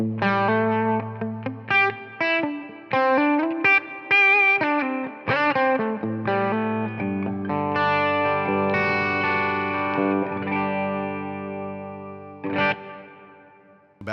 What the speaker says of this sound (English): To a bigger reverb.